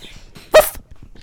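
A dog in the Minecraft video game gives a single short, sharp bark, loud against a quiet background of low game sounds.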